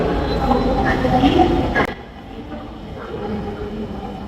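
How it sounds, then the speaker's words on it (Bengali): Dhaka metro rail train pulling into a station, a loud rumbling rush that cuts off sharply partway through and gives way to quieter platform noise, with voices mixed in. "আমাদের মেট্রো রেলটিও স্টেশনে ঢুকে যাচ্ছে"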